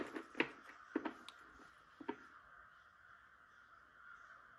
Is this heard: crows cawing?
yes